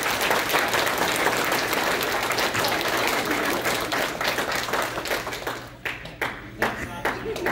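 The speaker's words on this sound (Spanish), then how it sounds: "les pido que le den un aplauso a mi Julissa y a César" Wedding guests in Columbus, Georgia clap for the bride and groom Julissa and César, a dense burst of applause that thins into scattered claps after about five seconds, with some voices mixed in.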